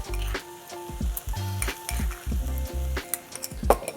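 Tomato paste frying in a pan with softened vegetables for a kangaroo bolognese, a steady close sizzle broken by repeated stirring scrapes and pauses.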